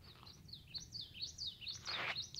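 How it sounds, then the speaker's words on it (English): Birds chirping at a lake at sunset, a faint series of quick high tweets and twitters over a low background rumble, with no voices. "You hear all the birds chirping."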